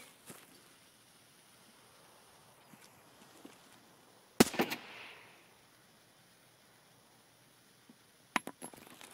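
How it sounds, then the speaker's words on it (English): A grenade detonates in Escape from Tarkov woods raid gameplay, a single sharp blast with a brief crackling tail, followed later by a couple of quick clicking impacts against a quiet ambient background. "Oh, what a fucking grenade"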